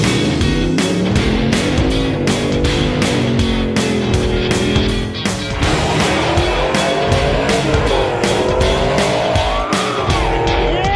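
A 2010 Dodge Challenger R/T with a 5.7 Hemi and a 100-shot nitrous kit races hard, its loud, continuous engine roar climbing through gears amid tire squeal and a busy crowd-filled event atmosphere.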